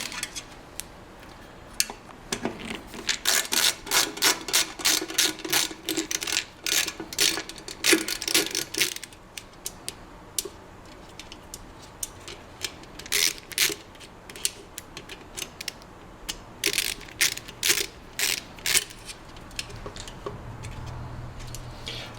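Screws come out of the headlight holding ring on a Harley-Davidson Fatboy, a long run of dense metallic ratcheting clicks in bursts with short pauses, close and fairly loud, no voices.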